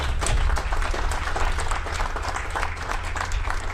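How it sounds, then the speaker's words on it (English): An audience at a Hekima University College ceremony applauds, steady dense clapping from many hands throughout, fairly loud and close, with no speech over it. "Shall we applaud our eminence?"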